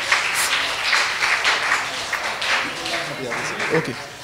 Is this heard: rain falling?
no